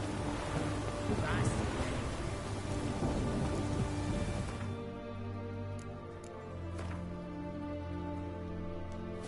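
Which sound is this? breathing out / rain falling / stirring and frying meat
rain falling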